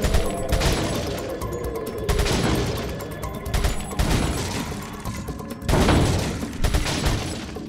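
Gunfire in Resident Evil 4 while aiming for headshots, loud repeated shots arriving in bursts roughly every two seconds, each with a sharp crack and rumbling tail over mechanical clatter, no talk.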